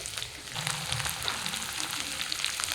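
Ground spice paste frying in a pan for a carp curry, a steady close sizzle with faint crackles and occasional stirring scrapes, alone without speech.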